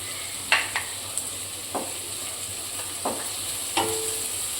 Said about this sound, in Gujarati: ઝીણી સમારેલી ડુંગળી નાખીશું ડુંગળીનો કલર થોડો ચેન્જ થાય ત્યાં સુધી આ રીતે આપણે સતરશું